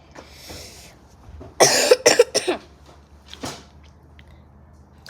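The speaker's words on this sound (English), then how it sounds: "That was a cough." A person eating Takis coughs in a loud, harsh burst of several quick hacks close to the mic, followed by one more short cough a moment later, with quiet room tone around it.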